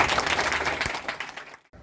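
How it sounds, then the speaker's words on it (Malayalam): An audience at an arts collective's one-day workshop claps warmly to welcome a guest. The applause is loud and fairly dense, then thins out and stops abruptly near the end. "ഹൃദയപൂർവ്വം നമുക്ക് കൈയടിച്ച് അദ്ദേഹത്തെ സ്വാഗതം ചെയ്യും"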